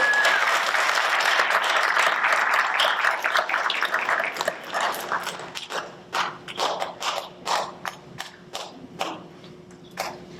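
Long applause from an audience at a school committee meeting, dense and steady at first, then thinning into scattered individual claps as it fades out.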